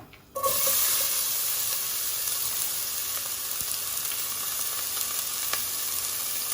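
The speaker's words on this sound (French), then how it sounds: "On met nos oignons." Onions dropped into a hot pan for chili con carne set off a sudden loud sizzle that settles into a steady, close hiss of frying, with a faint clink or two and no talking.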